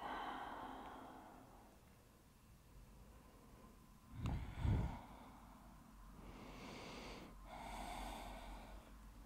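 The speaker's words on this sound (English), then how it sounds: "And always deep breath." Slow, deep breath during a prenatal yoga session: a soft, close breath with one stronger gasping exhale in the middle, followed by quieter breathy sounds.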